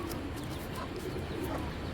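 A pigeon gives soft, low coos in a brief, fairly faint stretch against a murmuring background.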